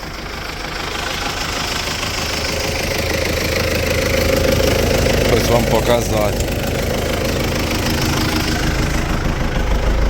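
An MTZ 892.2 tractor engine drones steadily at close range during wheat-stubble disking, a low rumbling idle throughout, with someone speaking briefly over it.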